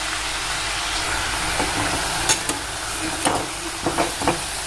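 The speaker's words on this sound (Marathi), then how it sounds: "तेलामध्ये आपलं हे छान असे भाजून घ्यायची ही पात" Spring onion greens fry in hot oil in a pan, a soft, steady close sizzle with occasional stirring scrapes and clicks.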